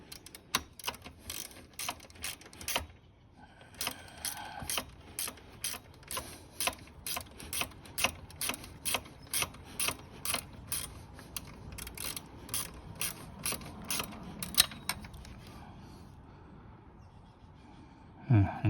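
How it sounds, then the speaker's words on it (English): A 12 mm ratcheting wrench turns bolts on a Honda Dax125, giving bursts of quick, crisp clicking in a steady rhythm, broken by brief pauses, close by with no talking. "It's my ratcheting wrench right here."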